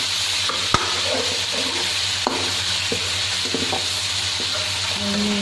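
Chicken karahi frying in a pan as ground and crushed coriander and fresh coriander go in, a steady close sizzle with occasional knocks and scrapes of a stirring spoon, no talking.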